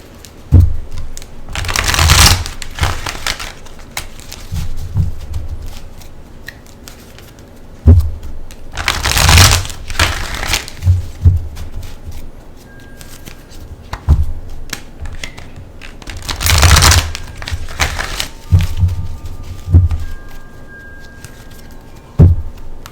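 Archangel Power Tarot deck being shuffled, three distinct bursts of rapid riffling card flutter spaced several seconds apart, close and fairly loud, with light taps and handling noises between them.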